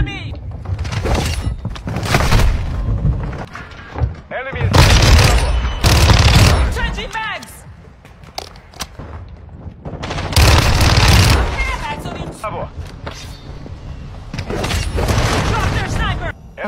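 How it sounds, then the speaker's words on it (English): Gunfire during a video game match, with bursts of rapid shots and booming impacts coming in loud clusters separated by quieter stretches, while a player's voice and in-game radio callouts talk over the action. "They're shooting at me!"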